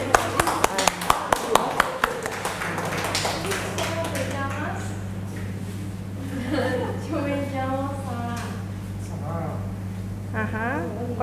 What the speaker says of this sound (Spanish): A ver, un aplauso, por favor.